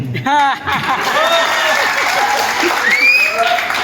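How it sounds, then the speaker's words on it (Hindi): Audience applause at a product launching event, a dense burst of clapping that starts loud and carries on steadily for a few seconds, with a voice briefly heard over it at the start. "बस इतनी सी तालियां।"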